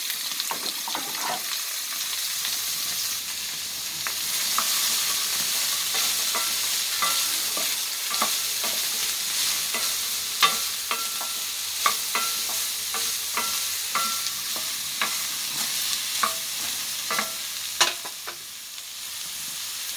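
Okra sizzles and sautés in a pan for a tamarind okra curry, with steady frying hiss and repeated sharp scrapes and clinks of stirring throughout, fairly close.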